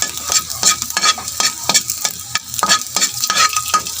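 Garlic is stir-fried in a hot pan for Filipino-style fried rice, a loud constant sizzle broken by regular scraping strokes of the spatula, close up with no talking.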